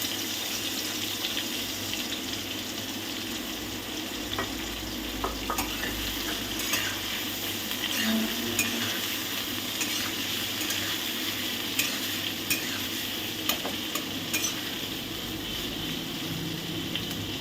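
Steady sizzling of onions frying in hot oil after dried chillies, with occasional scraping clicks from stirring throughout.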